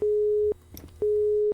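A telephone busy signal in a horror video game sounds as two identical flat, steady beeps, each about half a second long, split by a short pause in which faint game noise comes through.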